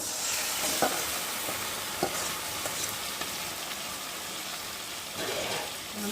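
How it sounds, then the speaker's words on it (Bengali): Marinated chicken frying with onions in a pan, a dense loud sizzle with a few stirring scrapes over about six seconds, close and without speech. "এই যে মাখিয়ে রাখা চিকেনটাকে দিয়ে ভালো করে কষিয়ে নেব"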